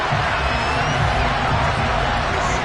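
Crowd cheering and applause in the Madden football video game, a loud, steady roar of stadium noise filling the whole moment without a break.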